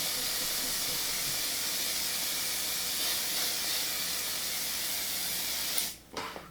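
A steady, fine hissing mist of airbrush foundation sprays continuously at close range for several seconds, then cuts off abruptly near the end.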